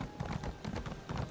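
Horse hooves clip-clop at a steady trot in The Elder Scrolls Online, a brisk close rhythm of repeated hoofbeats in a game city, with no talk over them.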